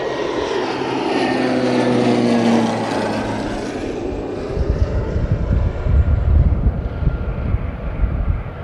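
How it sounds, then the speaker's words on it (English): A propeller airplane at a flight school takes off, starting as a loud, droning engine hum with a shifting pitch and passing into a rough, rumbling roar as it moves away. "whenever you see a plane go, you got to take a plane break"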